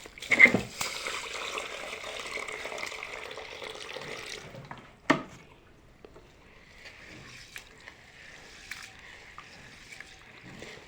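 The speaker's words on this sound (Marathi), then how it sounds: "आता तांदूळ स्वच्छ पाण्याने 2-3दा धुवायचे आहेत।" Rice being rinsed in clean water by hand, a sustained wet swishing and sloshing that fills the first few seconds, a sharp splash or clink near the middle, then quieter intermittent water movement.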